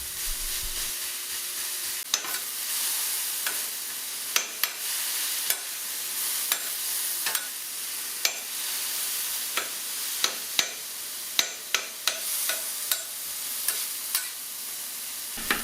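Unseasoned steak for Philly cheesesteaks fries on a hot surface with a steady close sizzle, broken by sharp scraping and tapping strokes of a spatula at irregular intervals.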